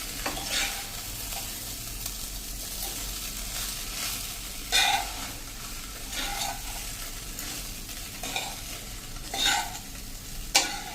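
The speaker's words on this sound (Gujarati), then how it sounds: "હવે આને આપણે આ રીતે હલાવી લેશું બધા વેજીટેબલ સાથે" Poha being stirred through mixed vegetables in a pan, with repeated scraping spoon strokes over a faint, steady sizzle, close and fairly quiet, and no talking.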